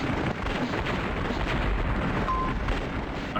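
Continuous heavy booming of artillery cannon fire in a video game, a dense, loud rumble of overlapping blasts that never lets up across the stretch.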